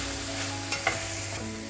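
Pre-cooked mutton stirred into a fried tomato masala for mutton kurma: a short, steady sizzle close up, with a few soft scraping clicks from the spoon.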